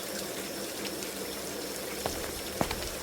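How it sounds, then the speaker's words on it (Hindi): Steady rain falls at dusk as a dense, even hiss with a few distinct drops tapping nearby toward the end, unbroken and without voices. "बारिश भी शुरू हो गई थी।"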